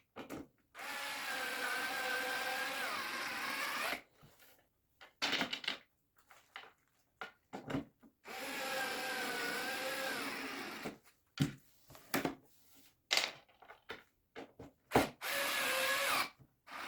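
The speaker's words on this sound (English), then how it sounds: "Take the upper wood and install the other 4 screws to the outside" Screws driven into a wooden Livarno Living bedside table with a power driver: several sustained whirring bursts, loud and close, broken by pauses filled with short knocks and handling noises.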